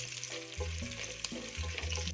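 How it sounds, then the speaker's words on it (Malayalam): Whole spices (two pieces of cinnamon, five cardamom pods, cloves and two star anise) frying in oil for mushroom biryani, a steady close sizzle with light stirring scrapes and a low background hum, no talking. "ഇതെല്ലാം കൂടെ നമ്മൾ ഈ എണ്ണയിലിട്ട് വറക്കുവാണ്."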